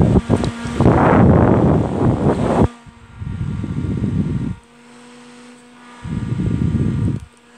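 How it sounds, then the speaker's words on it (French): A small portable USB rechargeable misting fan runs in bursts, whirring with a steady hum, stopping and restarting several times with quiet pauses between. "je vais arrêter le ventilateur"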